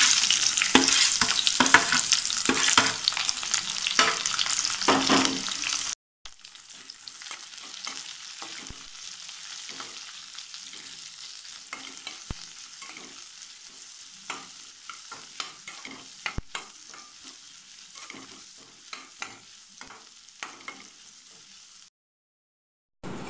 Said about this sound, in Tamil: வெங்காயம் எண்ணெயில் நல்லா வதங்கிருச்சு.